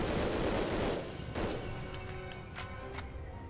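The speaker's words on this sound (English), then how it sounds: "you can just shoot it with machine gun and it will destroy" Machine gun fire in the World War II shooter Medal of Honor: Underground, a dense burst at the start that fades into scattered shots and debris over lingering noise.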